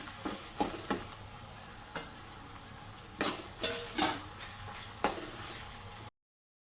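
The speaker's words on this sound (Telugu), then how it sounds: "ఇప్పుడు అల్లం వెల్లుల్లి పేస్ట్ వేస్తున్నాను" Sharp clicks and scrapes of a spoon stirring ginger-garlic paste into fried onions in a pan, irregular strokes over a soft sizzle, then a brief silence.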